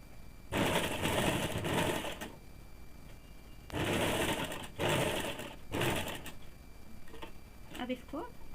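A sewing machine runs a double line of stitching on a woolen baby frock in several short bursts of rapid mechanical whirring. Quiet pauses separate the bursts, and a voice speaks briefly at the end.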